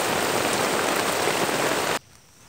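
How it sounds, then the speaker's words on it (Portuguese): Dense, loud rain hisses steadily on a surface close by at a riverside cabin, then cuts off suddenly to quiet background. "Porque tá chovendo, tá chovendo."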